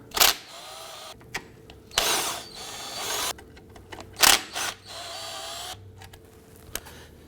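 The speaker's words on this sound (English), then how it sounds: "we're going to go ahead and remove our 3 bolts here using a 7 millimeter" Bolts being removed from the alternator of a 2008-2011 Ford Focus with a 7 mm tool: several short, loud bursts of a power driver or ratchet whir, separated by quieter workshop gaps, close by with no talk.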